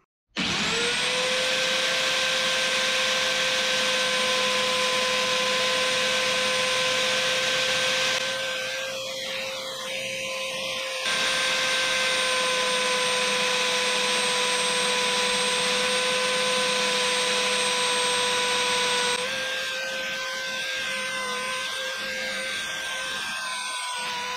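A router cuts wooden chain links with a loud, steady high-pitched whine and hum that runs continuously, with brief shifts in tone as the bit bites into the wood and rough scraping bursts.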